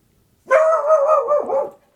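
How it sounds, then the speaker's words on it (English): A dog barks in one continuous run of yelping barks lasting just over a second, close and fairly loud against a quiet room, with no talk over it. "Sorry for my dog."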